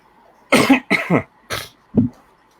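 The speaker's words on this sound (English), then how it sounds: "So sorry I'm coughing, but for some reason I have a total frog in my throat" Four harsh coughs from a woman with a frog in her throat, close and loud, coming in quick bursts with short pauses, the last one shorter and weaker.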